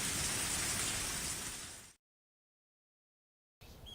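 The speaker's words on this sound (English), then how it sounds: "nice sounds of the rain was making me relaxed" Rain ambience in the Higurashi visual novel: a steady, fairly loud rain hiss that cuts out abruptly to silence midway, then returns briefly near the end, with no voices.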